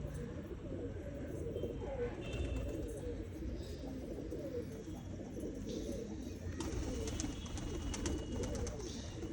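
Pigeons coo while feeding, a continuous layered burble of soft, close calls with a few faint higher chirps over it.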